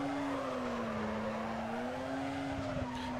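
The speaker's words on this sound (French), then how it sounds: "regarde le beau drift que je te fais là" A car drifts in the video game Need For Speed Carbon, a sustained engine drone with a long, wavering tire squeal running close and loud for a few seconds.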